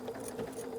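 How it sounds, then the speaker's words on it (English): A brief burst of a sewing machine back stitching through cotton fabric squares, a quick faint run of rapid needle clatter lasting under a second. "And back stitch."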